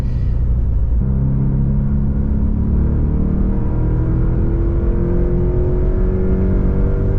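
A Porsche Panamera in Sport Plus mode accelerates hard, its engine note a loud, close, continuous drone that climbs steadily in pitch over several seconds, with no voices.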